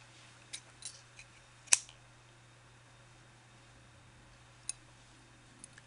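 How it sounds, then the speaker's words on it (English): Scissors snip yarn tails on a small knitted eyeball, a few quiet, sharp clicks scattered across a hushed indoor background, one cut louder than the rest. "you can cut the tails if you have really long ones"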